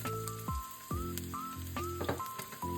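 Ginger, garlic and onion hit hot oil in a pot, giving a close, continuous sizzle with bursts of crackle as pieces drop in, alone without talk.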